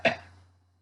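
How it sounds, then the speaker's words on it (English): A single short cough from a man close to the microphone, a sharp burst that fades quickly into quiet with a low steady hum underneath. "I'm coughing all the time."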